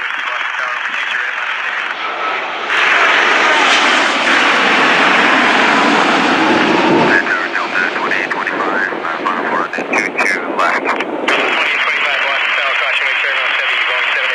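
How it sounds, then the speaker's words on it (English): A Boeing 787 airliner at Boston Logan airport roars loud and broadband, rising and falling as it passes, heard alongside radio chatter and a person talking. "Oh, there it is. There's the 787."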